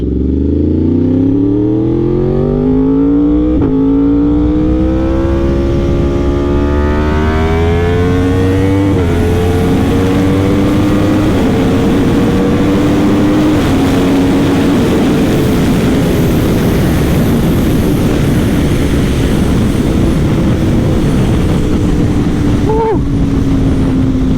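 A Yamaha R1 sport motorcycle with a Stage 1+ ECU flash, ridden at speed, its engine drone rising and falling through the gears under strong wind rush, loud and continuous for the whole stretch.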